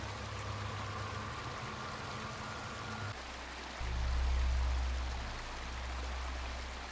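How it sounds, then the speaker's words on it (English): Water runs steadily from a tap for rinsing grimy hands in the Angels of Death game, a soft continuous flow over low ambient hum that swells and dips midway. "You can rinse your hands off here."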